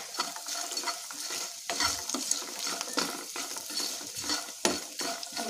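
Curry leaves fry in hot oil in a pan while being stirred, a bright steady sizzle broken by frequent scraping strokes of a spoon against the metal, close and fairly loud.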